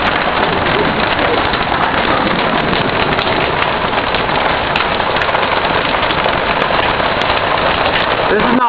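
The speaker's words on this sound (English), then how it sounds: "This is the worst hail I've ever seen." Heavy hail with no rain, the worst a local has seen in 26 years, pelts surfaces in a dense, steady, loud roar of countless overlapping impacts throughout, with no pauses.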